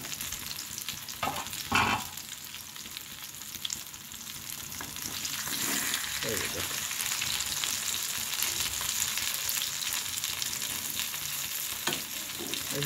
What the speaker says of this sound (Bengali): সবই কিন্তু আস্তে আস্তে এই অল্প তেলে ভাজা হয়ে যাচ্ছে